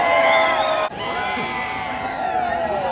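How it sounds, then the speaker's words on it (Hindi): A large crowd gathered outside an auditorium shouts and cheers continuously, a dense wall of many overlapping voices at close range that dips briefly near the start and then carries on. "वहाँ पे इतनी बहुत ज्यादा भीड़ हो रखी है"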